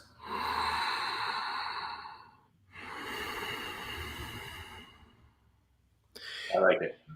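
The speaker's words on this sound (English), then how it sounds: "you do something called Ujjayi pranayama breathing" Two long, slow breaths drawn through a constricted throat give a steady hissing, ocean-like rasp, followed by a short sharper sniff or snort.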